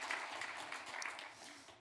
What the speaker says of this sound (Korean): 다시 한번 우리 큰 박수로 하나님 앞에 영광을 함께 돌리겠습니다.